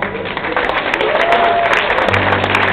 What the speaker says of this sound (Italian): Un applauso, Puccio.